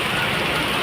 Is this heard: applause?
no